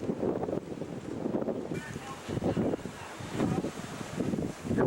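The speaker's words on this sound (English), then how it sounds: "The wind across the deck is probably about 25 knots here." Strong wind of about 25 knots buffets the microphone across the deck of a sailboat at sea near New Zealand, a gusty roar with surging rumble and a hint of water and rigging noise, loud and continuous.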